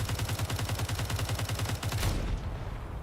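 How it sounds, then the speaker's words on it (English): Rapid cannon fire pounds an enemy base in the Space Engineers game, a fast even rhythm of loud repeated blasts over about two seconds before it cuts off into a fading rumble. "Those cannons are starting to break the base."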